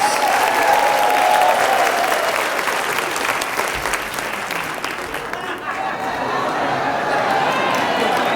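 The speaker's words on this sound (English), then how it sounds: "Please, another round of applause for Brooklyn's own Attorney General Letitia James." A large indoor audience applauds steadily at a Brooklyn State of the Borough address, with dense, loud clapping and crowd noise holding throughout, briefly easing midway before swelling again.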